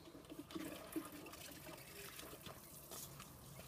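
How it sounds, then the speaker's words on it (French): Water is poured over seedlings in a small garden planter, a faint, soft splashing trickle that runs steadily for a few seconds, close by and with no talk. "Et j'arrose."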